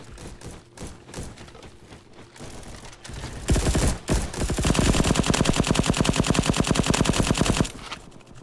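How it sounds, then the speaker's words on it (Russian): Gunfire from the Roblox shooter Bad Business, first scattered single shots and then a long, loud burst of rapid automatic fire, close and continuous, with no talking. "Я ж в него стреляю и попадаю, и все нормально."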